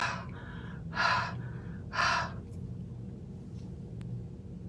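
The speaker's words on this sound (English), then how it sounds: "that huffing, that breathing heavily on it is re-moistening those inks" Two heavy huffs of breath onto an inked rubber stamp to re-moisten the ink, each a short breathy burst about a second apart, close and fairly quiet over a low room hum.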